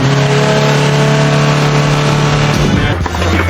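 A van fitted with a 2.5-litre Ford engine accelerates hard, its loud, steady engine drone holding strong and close before shifting pitch near the end.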